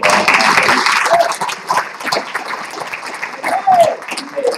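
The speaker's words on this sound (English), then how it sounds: "A little round of applause." Applause from a crowd at an artist legacy awards ceremony fills the space, a dense patter of clapping that swells and thins, with some voices and cheers mixed in.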